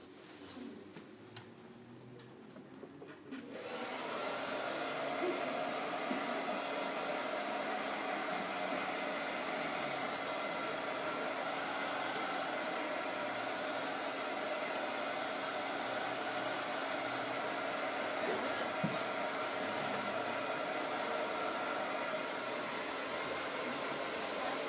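A hair dryer blows steadily on damp hair being dried straight after styling gel, a continuous broadband whoosh that starts after a few quiet seconds and runs loud and close to the end.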